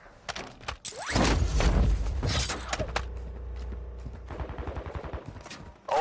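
Gunfire in Call of Duty: Warzone 2.0 DMZ: sharp rapid bursts from automatic weapons, loudest in a close flurry early on, then thinning to scattered trailing shots and clatter.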